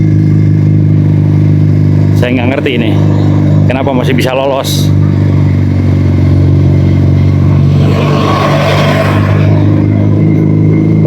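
Car and motorcycle engines rumble steadily on a congested holiday-exodus road, a loud continuous low drone with a brief swell of passing traffic noise near the end. Someone talks over it in short bursts.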